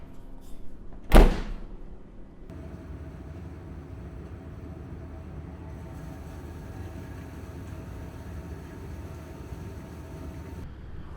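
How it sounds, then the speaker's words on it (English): The door of a Rational SCC combi oven shuts with a single sharp, loud thud, followed by a steady low hum of the oven running. "all I need to do to start the cleaning program is close the oven door"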